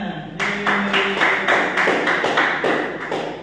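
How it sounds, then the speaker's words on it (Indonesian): Classroom of students applauds after a group presentation, a loud run of quick, fairly regular claps lasting a few seconds, close and clear with little talk. "beri tepuk tangan semuanya"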